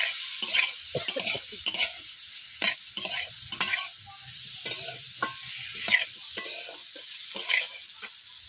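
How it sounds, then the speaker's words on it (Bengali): Kohlrabi fries in a pan while a spatula stirs it, producing bursts of crackling sizzle and scraping strokes in an uneven rhythm, close and moderately loud with no talking. "এবারে নেড়ে নিচ্ছি আমি।"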